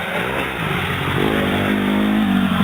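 A new dirt bike engine revving on a sandy pit bike track, loud and close, its pitch climbing steadily as it accelerates.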